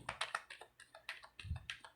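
Tarot cards shuffled close up, a quick run of crisp, irregular papery taps and riffles repeating over two seconds, quiet and alone with no talk.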